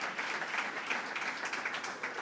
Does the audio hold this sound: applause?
yes